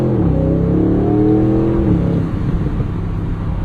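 A 2026 Aston Martin's 4-liter M177 twin-turbo V8 revs hard, climbing in pitch and then easing off, loud and close from inside the cabin with no talk.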